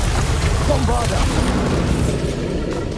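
A Bombarda spell explodes in the Hogwarts Legacy video game, a dense booming blast with rumbling debris that fills the whole moment at close range, mixed with game voices and music.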